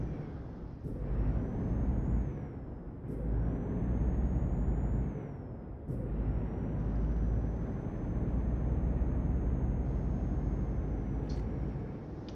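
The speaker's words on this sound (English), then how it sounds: "let's take off the parking brake" Truck parking air brake released in Euro Truck Simulator 2, heard as steady engine hum with short hissing bursts between longer stretches, close and moderately loud, with no talking.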